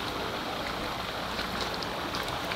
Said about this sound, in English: We just turned on the pump. Now all this water is going out of this pond right now.